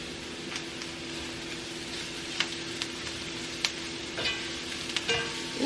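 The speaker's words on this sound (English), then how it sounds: "I'm going to add the minced garlic to this." Minced garlic sizzles steadily in a hot pan, a soft, even hiss with a few faint clicks and stirring scrapes, no voices.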